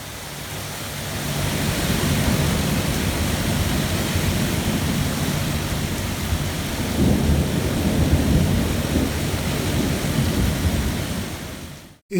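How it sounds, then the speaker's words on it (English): Heavy rain pours down in a thick, roaring wash with rumbling thunder beneath it, building after a quieter opening and staying loud and steady in coastal Greece, with no voices. "My goodness, it's raining buckets"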